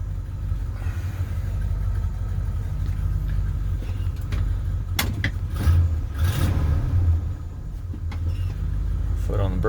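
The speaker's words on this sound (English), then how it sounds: "Okay, the truck is sufficiently warmed up." A 1977 Ford F250 pickup idles steadily after warming up, its deep low rumble continuous and close throughout, with a few brief mechanical clanks and shifts in the middle.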